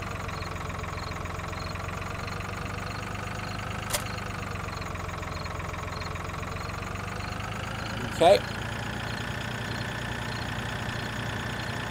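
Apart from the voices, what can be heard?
tractor engine idling in Farming Simulator 2013 video game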